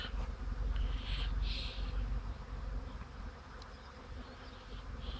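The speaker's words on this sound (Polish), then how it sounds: "Piękny oblot pszczółek." A steady buzzing hum of many honeybees flying around their hive, continuous and full, with individual bees passing closer now and then.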